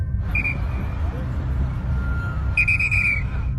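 A woman directing street traffic blows two shrill whistle blasts, the first short and the second longer, over a steady low hum of passing cars.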